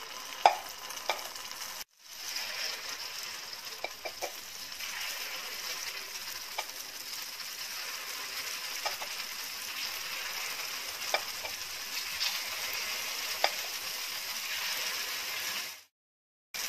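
Paniyaram batter sizzles steadily in hot oil in a pan over full flame, a continuous bright frying hiss with occasional small pops, close and fairly quiet, cutting off briefly near the start and again at the end.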